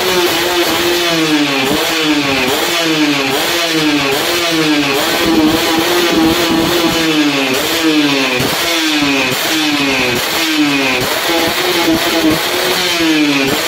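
A Yamaha 125Z two-stroke motorcycle with a newly fitted carburetor revs repeatedly, loud and close, each blip rising sharply then dropping back in a steady cycle of roughly one rev per second throughout.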